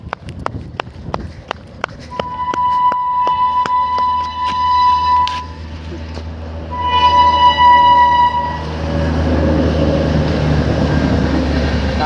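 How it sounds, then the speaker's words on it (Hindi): A train rolls past on railway tracks close by, loud and sustained, with rhythmic wheel clacks early on and long, steady horn blasts sounding over the rumble. "भाई देख सकते हैं ट्रेन निकल रही है"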